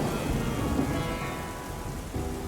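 Steady rain falls at sea in a dense, continuous hiss with a low rumbling undertone, fairly loud throughout and with no voices.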